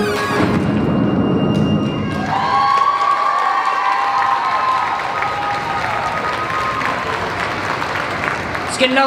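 Audience at a national performing arts talent competition bursts into loud applause, cheering and whistles after a song ends, a sustained crowd roar with high shouts and thumps.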